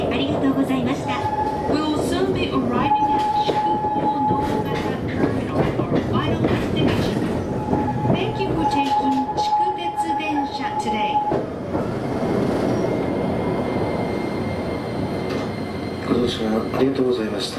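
A Chikutetsu electric train pulls into its terminal station with a close, continuous rumble, rhythmic clickety-clack and a sustained motor whine that comes and goes. A voice is heard faintly under the train noise.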